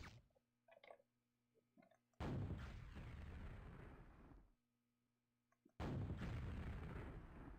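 Rocket launcher fire in Quake, played through the early vQuake hardware-accelerated renderer: two loud, booming blasts, each with a long rumbling decay, separated by a few seconds of near silence with faint clicks.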